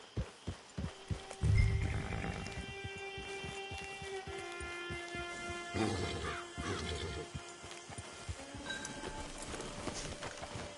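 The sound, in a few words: horse in video game Red Dead Redemption 2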